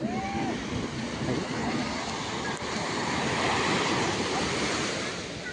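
Steady roar of sea waves washing onto the shore at Chowpatty beach, Mumbai, with wind rushing across the microphone throughout.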